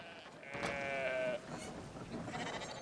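Sheep bleating in the video game Brothers: A Tale of Two Sons, a couple of wavering calls near the start, the strongest one held for about a second, over a soft background bed with no speech.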